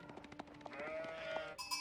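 Sheep bleat in Age of Empires 4 amid game sounds, a wavering bleat rising over rapid clicking and ending in a brief chime, moderately loud and without speech.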